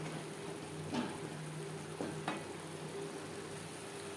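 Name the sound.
stirring frying spiced potato curry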